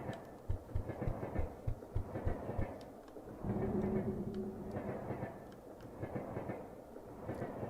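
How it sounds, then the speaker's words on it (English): A train passes in the video game Dreamed Away, a rumbling run of rhythmic wheel clatter at moderate distance, steady and fairly soft, with a brief tonal hum partway through. "Oh, that's the end of the train."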